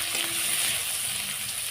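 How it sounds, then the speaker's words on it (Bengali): Ginger, garlic and chopped chilli sizzle steadily in hot oil, a dense, even frying hiss heard close up with no voices. "দিয়ে একটু ভেজে নেবো"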